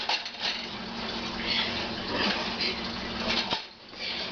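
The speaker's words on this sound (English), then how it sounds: "We can just put the top over that" A metal lid set down over a pot of sautéing chicken-style seasoned food, with clattering cookware scrapes and a sharp clink near the end over steady kitchen noise.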